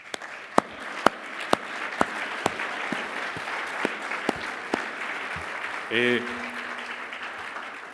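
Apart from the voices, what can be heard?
applause for sports champions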